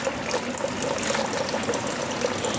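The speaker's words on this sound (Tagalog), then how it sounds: "Yung tubig namin, oh, non-stop." Water from a mountain source flows without stopping, a steady trickling, splashing rush close by with small irregular bubbling bursts and no speech.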